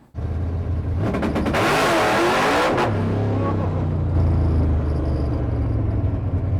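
Race car running tune 12 launches as the clutch is let out, the engine roaring up loud and close in a hard burst of revs, then settling into a steady, deep rumble that carries on to the end.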